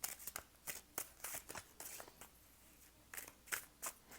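Tarot cards are shuffled by hand in a quiet room, a series of soft, crisp riffling bursts and taps in an uneven rhythm, faint and close with no talking.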